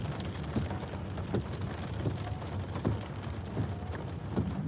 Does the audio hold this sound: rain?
yes